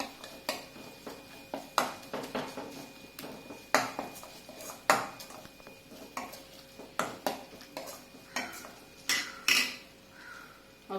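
Ginger garlic paste is stirred and sautéed in a pan for aloo paratha. A metal spatula clinks and scrapes against the pan in irregular repeated strokes, fairly quiet, with no one speaking.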